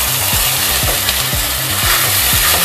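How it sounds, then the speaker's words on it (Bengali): A paste of ground cashew, poppy seed and melon seed sizzles and fries loudly in a pan, with a steady hiss and a few soft rhythmic stirring scrapes. "তারপর কাজু পোস্ত আর চারমগজ বাটাটা দিয়ে দিলাম।"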